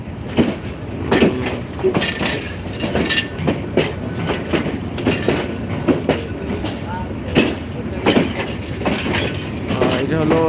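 An express train rolls past with rhythmic clattering of wheels over rail joints, steady and fairly loud, with occasional metallic squeals.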